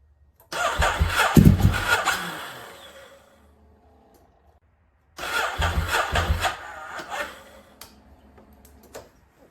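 A 2009 Ducati 848 motorcycle engine cranks and fires in two separate start attempts, each a loud burst of engine noise lasting a few seconds before dying away, with quiet gaps in between.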